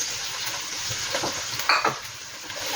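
Spanish sardines frying in hot oil in a pan for pasta, giving a loud, steady sizzle with a few sharper crackles and a light scrape from stirring.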